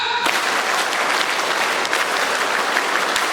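An audience at an Islamic lecture on improving prayer performs the scout clap, a dense, steady burst of many hands clapping together, close and loud for a few seconds with no talking over it.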